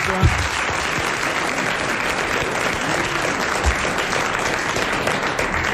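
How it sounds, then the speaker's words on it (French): Studio audience at a French television game show in 1990 applauds a contestant who has just won 1000 francs, a steady dense wash of clapping filling the whole stretch at even loudness. "Vous l'applaudissez comme elle le mérite."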